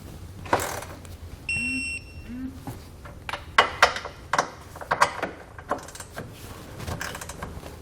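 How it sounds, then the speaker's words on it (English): Clicking, ratcheting taps from a torque wrench tightening Curt trailer hitch receiver bolts on a 2020 Hyundai Kona, in short uneven bursts, with a brief electronic beep early on and scattered metallic handling noises. "we can come back with a torque wrench and tighten it down to the amount specified"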